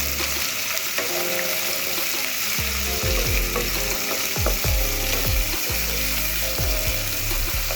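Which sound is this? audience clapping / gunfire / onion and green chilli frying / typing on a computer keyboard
onion and green chilli frying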